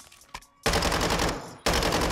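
Bursts of RPK machine gun fire in Modern Warfare 2, loud and dense: a short blip, then a sustained stream of rapid shots for about a second, a brief gap, and another burst cut off at the end.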